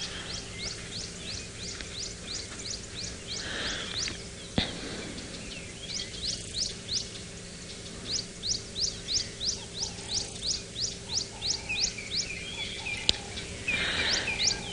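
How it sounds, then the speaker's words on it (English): Wild birds call and chirp repeatedly in warm morning open-air bushland, bright rhythmic bursts of notes rising and falling across the whole stretch, with no talking. "Can we hear all the bird calls that are popping up?"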